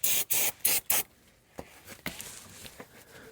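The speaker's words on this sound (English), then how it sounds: "I'm using some CRC brake clean. Spray it and wipe it down." Four sharp hissing bursts of CRC brake cleaner aerosol spray in quick succession, followed by quieter rubbing and light scraping sounds while wiping down a Mercedes-Benz S550 front differential.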